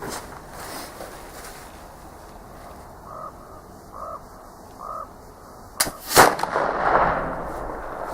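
A Traditions pellet flintlock loaded with 777 powder firing outdoors: a sharp crack followed moments later by a louder boom and a trailing rumble, with crows cawing in the background beforehand.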